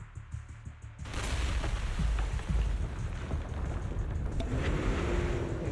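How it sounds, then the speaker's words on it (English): Explosions in the video game Zenless Zone Zero erupt after a brief quiet opening, giving way to a dense, sustained rumbling roar with crackling debris and ground tremors filling the rest. "several explosions erupt, followed by tremors in the ground"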